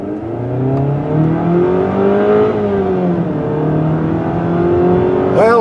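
A 2020 Jeep Compass Limited 4x4 with a 2.4 liter engine accelerates hard, its engine note rising steadily through a gear change and climbing again, heard loud and close from inside the car.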